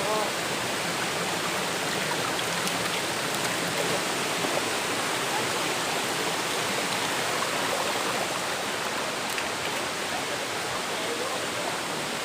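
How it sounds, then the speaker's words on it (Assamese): A brimming stream rushes by in one constant, dense wash of flowing water, loud and close throughout with no break. "জুৰিটো দেখুৱালোঁ, নিশ্চয় জুৰিটো দেখা পাইছে আপোনালোকে।"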